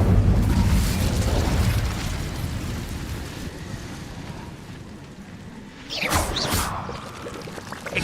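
Incendio fire spell cast in Hogwarts Legacy: a loud rushing, roaring burst of flame up front that gradually fades into a steady crackling whoosh, followed by a second bright sizzling flare near the end.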